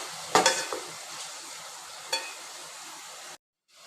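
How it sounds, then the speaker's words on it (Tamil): Tomatoes and ginger-garlic paste sauté in a pan for a chickpea curry, a steady close sizzle broken by a few sharp stirring scrapes before the sound cuts off abruptly. "சேர்த்துக்கிட்டு ஒரு நல்லா வதக்கணும்."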